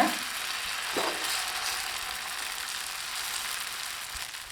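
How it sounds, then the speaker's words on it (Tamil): Eggless vegetable omelette batter sizzles steadily on a hot dosa griddle over a medium flame, a continuous close hiss of frying throughout with a soft clatter near the start and a sharp knock at the very end. "இப்போ தோசைக்கல் நல்லா காஞ்சிருச்சுங்க மீடியம் ஃப்ளேம் வச்சுக்கணும் ஊற்றிக்கலாம் இந்த மாதிரி கொஞ்சம் பரப்பி விட்டுக்கலாங்க"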